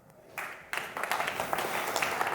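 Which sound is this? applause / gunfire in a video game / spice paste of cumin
applause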